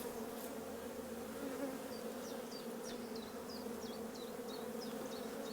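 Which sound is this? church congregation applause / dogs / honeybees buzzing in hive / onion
honeybees buzzing in hive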